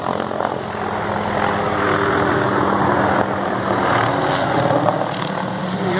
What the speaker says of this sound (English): The helicopters are surveying the scene